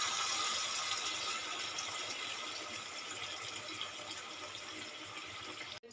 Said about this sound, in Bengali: এবার আমি দিয়ে দেবো পরিমাণ মতন জল।